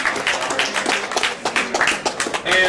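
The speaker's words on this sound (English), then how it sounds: "Please give T.C. Smith a great big round of applause" An audience claps for T.C. Smith at a radio station's anniversary and hall of fame party, a sustained round of dense, crisp hand claps with brief swells, moderately close.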